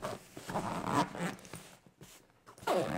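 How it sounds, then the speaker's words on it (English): A Cricut EasyPress tote bag being zipped shut, close and fairly quiet, with a few quick rasping zipper pulls, a brief pause, then a final longer zip. "We'll zipper it up."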